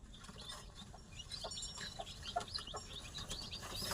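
A hen with a brood of seven or eight newly hatched chicks clucks softly on a poultry farm, a faint stream of short notes with light chirps mixed in and no talking.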